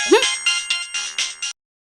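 A short electronic ringtone chirps in six quick, evenly spaced pulses, loud and close, then cuts off into silence.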